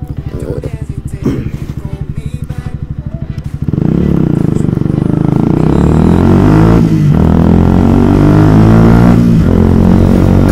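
A Yamaha YZF R125 125cc motorcycle with a loud aftermarket exhaust idles with a rapid, throbbing pulse, then revs up into a sustained, droning engine roar held close and loud to the end.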